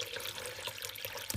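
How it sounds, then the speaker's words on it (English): Plain cold water pours into a blender for making handmade paper, a faint, steady splashing trickle lasting just over a second. "I add some just plain cold water"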